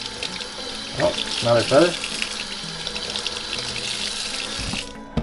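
A kitchen tap runs steadily as plucked wild duck is rinsed under it. The close, continuous water rush carries on while a voice speaks briefly in the middle, then stops near the end.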